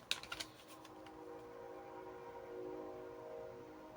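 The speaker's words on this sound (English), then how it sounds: "damn with that freaking train, man" A passing train rumbles steadily, its low drone and tonal hum holding fairly loud throughout, with a few sharp clanks at the start.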